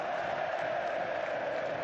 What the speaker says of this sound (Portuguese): Ouça a torcida do Botafogo.